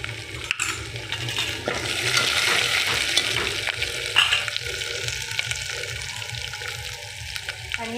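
Curry leaves hit hot oil for a dal amti with a loud, continuous spattering sizzle, punctuated by a sharp initial crackle and light stirring, with no one speaking.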